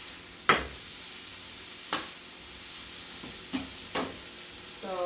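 A seasoned gumbo base sizzles and hisses steadily in a pan, with a few sharp clanks and scrapes of stirring scattered across it and no talking.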